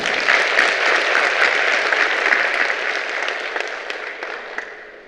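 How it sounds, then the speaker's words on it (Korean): A conference audience at the 2022 Korean Smart Water Grid society opening ceremony gives a full, sustained round of clapping from a large hall crowd. It stays loud and even, then thins out at the close. "이분들에게 저는 그 박수를 지금 함께 보내드렸으면 합니다."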